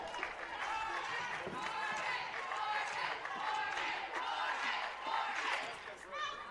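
The Eagles bench cheers and shouts steadily in a gym after Morgan LeBlanc's serving ace for CMU at an NAIA national championship volleyball opening-round match against Valley City State, with crowd noise underneath.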